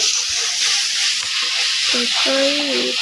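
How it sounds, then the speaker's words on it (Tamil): Ginger garlic paste sautés in hot oil with a loud, steady sizzle and frying hiss throughout, while a utensil stirs in the pan now and then. A brief tonal squeal appears near the end. "இஞ்சி பூண்டு பேஸ்ட்டு இந்த பச்சை வாசனை போகிற வரையும் நம்ம எண்ணெயில் நல்லா வதங்கிடலாம்."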